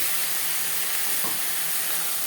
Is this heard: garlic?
yes